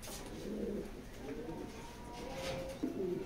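Released racing pigeons coo softly in a few short, repeated calls close by, with faint background noise.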